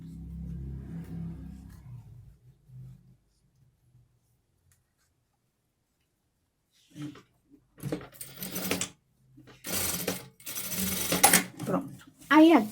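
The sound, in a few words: sewing machine stitching sweatshirt blouse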